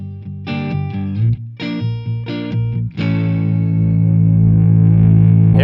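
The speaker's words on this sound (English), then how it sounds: "So I've set this up on channel A, and that's pretty clean, I would say. And then if I just play a little riff" Electric guitar riff played through a Line 6 DT25 amp on its clean channel A, bright chopped chords that stop and start in short bursts, then one chord rings out and sustains to the end, loud and close with no talk.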